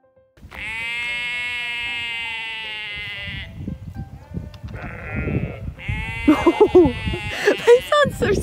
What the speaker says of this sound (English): I think these sheep are following us.